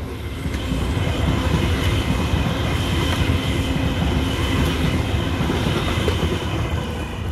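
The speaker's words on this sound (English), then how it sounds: "Those trains are going to Sydney." Trains bound for Sydney roll past near Gosford, a loud, steady rumbling roar with faint rail clatter that holds unbroken for several seconds.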